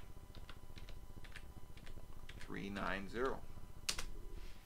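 Typing on a computer keyboard while installing software in Linux Mint: a quick run of light, scattered key clicks, close and fairly quiet, with a person speaking briefly in the middle.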